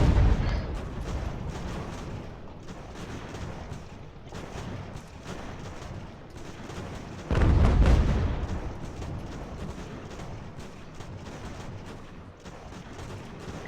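Cannon fire from a video game of American Revolution battles, with field guns firing canister at an enemy fort: heavy booming blasts at the start and again midway, over a continuous rumble of gunfire and battle noise.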